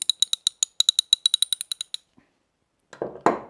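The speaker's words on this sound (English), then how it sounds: "This is my ratchet" Rapid, sharp metallic clicks of a ratchet wrench used for motorcycle servicing, about fifteen in a quick run, close and crisp, followed by a pause and a couple of duller knocks.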